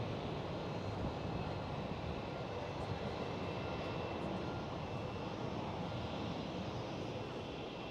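A KLM Boeing 737-700 airliner at Amsterdam Schiphol airport gives a steady, broad engine roar that holds level and fairly distant throughout, with no break or buildup.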